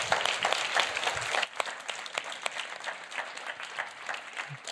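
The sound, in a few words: audience applause after talk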